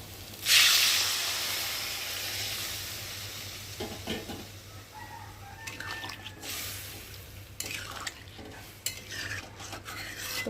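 Shrimp and taro masala is stirred in a pan: a bright splash and sizzle up front, then steady scraping and clinking stirs under a low hiss, close and moderately loud.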